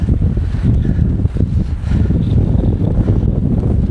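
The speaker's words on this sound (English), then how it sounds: "It is windy now." Strong, gusty wind on the exposed Red Screes summit in the Lake District, roaring steadily and loudly across the microphone with constant low buffeting throughout.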